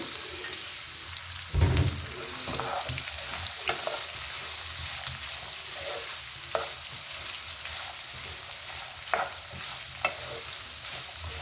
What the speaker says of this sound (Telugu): ముందుగా సన్నగా తరిగి పెట్టుకున్న బీట్రూట్ ముక్కలు వేసుకుంటున్నాను